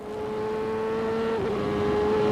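A 1994 Monterey Grand Prix race car engine holds a steady, high-pitched tone alone. It dips briefly mid-way as the car lifts through a hairpin, then settles again at a sustained, loud, close drone.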